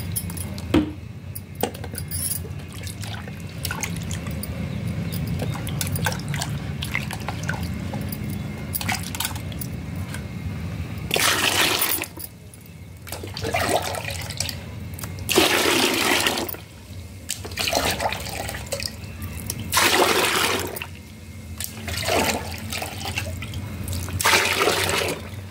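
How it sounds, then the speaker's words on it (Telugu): Water is poured into a mashed paste of rotten mangoes, with splashing and gurgling bursts and wet sloshing that grow louder in repeated surges near the end. "ఇప్పుడు దీంట్లో వాటర్ పోతాం అనుకొని"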